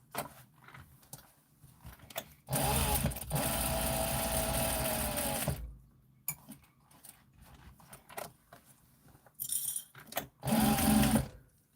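A sewing machine runs in several separate bursts of quick stitching, loud and close, broken by quiet pauses with small handling clicks, no talk.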